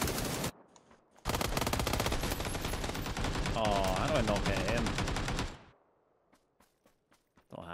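Rapid automatic gunfire in PUBG on console, a dense close-range burst lasting several seconds, then a few faint distant shots and footsteps in near quiet.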